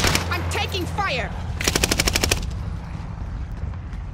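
Rapid automatic gunfire in a Call of Duty Warzone match on Caldera, a tight burst of sharp shots following a spoken voice, with game sounds continuing underneath.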